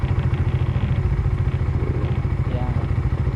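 A motorcycle engine runs close by with a fast, steady low chugging pulse and light mechanical clatter throughout.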